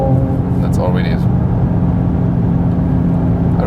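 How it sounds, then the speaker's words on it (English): A Mercedes C43 AMG with a six-cylinder engine accelerates in Sport Plus mode, giving a steady low engine drone heard from inside the cabin while someone talks over it. "I really like the sound. It's not too much, but I think in a very sonorous, low frequency sound from the 6-cylinder engine."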